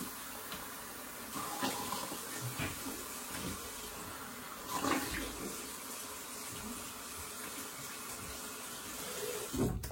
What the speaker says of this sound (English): Just gonna do a quick rinse.